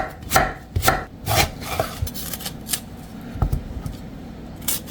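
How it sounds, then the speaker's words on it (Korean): A knife chops a washed apple with its skin on against a cutting board, sharp irregular thuds repeating closely in quick succession, alone without talk. "사과 1개 깨끗이 씻어서 껍질째 썰어요."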